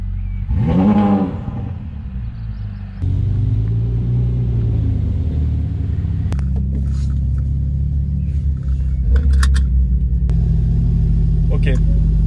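A Porsche Turbo S and a Ferrari 488 Pista idle side by side before a drag race, a deep steady engine rumble that jumps in level partway through, with someone speaking over it at first.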